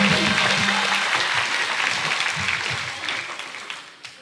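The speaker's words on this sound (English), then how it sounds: "Let's have one more huge round of applause for Dreamers Junior." Applause from an audience at a school talent show, a dense wash of many hands clapping that starts loud and gradually fades toward the end, with no talking over it.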